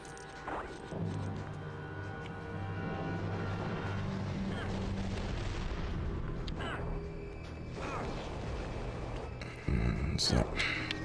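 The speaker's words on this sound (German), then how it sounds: "Da muss ich gerade mit der dicken Maschine gegen schießen." Heavy blaster fire from a big machine in LEGO Star Wars video game, booming crashes and blasts rolling under continuous game noise, with a louder burst near the end while someone talks over it.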